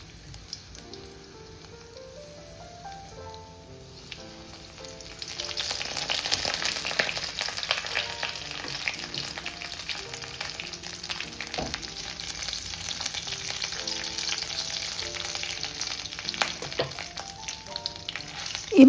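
Spice masala sautés in a pan with a steady, close sizzle that swells loudly when the ingredients hit the hot oil, over soft music with occasional stirring scrapes.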